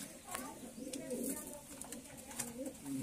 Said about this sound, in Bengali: বহু জাতের কবুতর রয়েছে এখানে